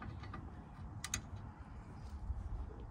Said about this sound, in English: I'm doing those 3 little bolts underneath the ball joint